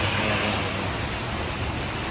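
Heavy rain pours down steadily, a dense, even hiss of drops hitting surfaces close by, continuous and loud throughout with no voices.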